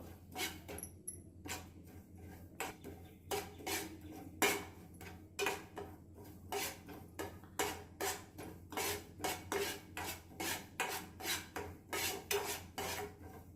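Poppy seeds being dry-roasted in a pan over a low flame while being stirred, giving repeated scraping and rasping strokes in a steady rhythm, close and moderately loud, with no talking.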